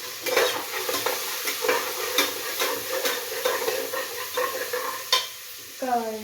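Carrots and green peas being stirred as they fry in a pan for pulao rice, with steady scraping strokes over a continuous close sizzle and no talking.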